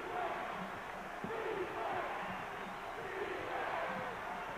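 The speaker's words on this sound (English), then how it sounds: "crowd really into this one" Arena crowd noise from a college basketball game, Kansas at Kentucky, as a steady dense roar of voices with cheering swells, heard under a commentator's talk throughout.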